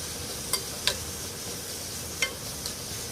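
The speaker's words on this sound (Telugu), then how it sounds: "కర్రీకి తగినంత ఆయిల్ వేసుకొని ఒక రెండు ఉల్లిపాయలు తీసుకొని చిన్నగా కట్ చేసుకున్న ఉల్లిపాయ ముక్కలు వేసుకొని ఇందులోనే ఒక అర టీ స్పూన్ వరకు పసుపు కూడా వేసుకొని ఉల్లిపాయని కొంతసేపు మగ్గించుకోవాలి" Two chopped onions fry in oil with turmeric, producing an even, moderate sizzle with four brief spoon taps against the pan; no speech.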